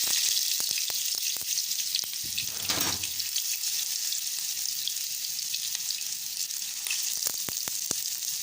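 Beef kababs fry in oil on a tava griddle, a constant bright sizzle with scattered pops and clicks and a brief lower burst of crackling near the middle.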